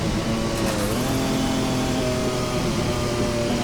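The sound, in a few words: Porsche 956 turbo engine sound in a racing video game mod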